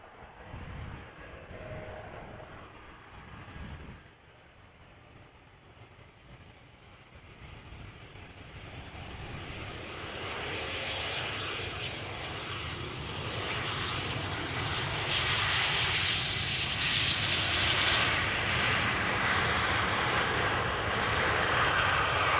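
An airliner arriving at Amsterdam Schiphol Airport, its engine roar building steadily from a moderate rumble to a loud, broad sustained roar as it approaches, with no talk.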